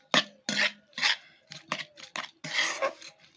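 A spoon clinks and scrapes sharply against a bowl as boiled milk is mixed with cream for Bengali sandesh sweets, in a quick irregular series of close knocks and scrapes.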